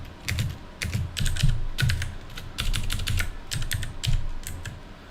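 Typing on a full-size computer keyboard, close-up rapid clusters of key clacks in irregular bursts with short pauses, alone without speech.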